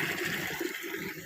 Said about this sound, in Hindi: ये मशीन को चालू करने का बटन है और देखिए ये पानी निकल रहा है